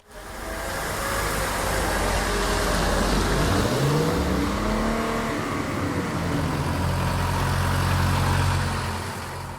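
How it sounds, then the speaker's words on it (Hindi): A car engine starts and revs up as a stylized sound effect used in video editing, loud and continuous with rising and falling engine tones throughout, heard alone. "एक इफेक्ट जिसमें एक तरह से गाड़ी स्टार्ट है"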